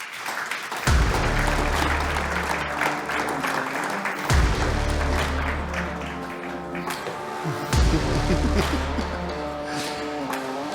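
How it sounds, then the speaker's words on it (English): Audience applause welcomes the CEO of Volvo Group onto the stage at a mobility and transportation forum, a sustained, fairly loud wash of clapping from a large crowd that swells and holds steady throughout. "thank you very much for the warm applause"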